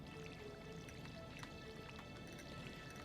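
Watering crops with a watering can in the Stardew Valley farming video game, a faint stream of soft dripping, splashing water effects under quiet game background.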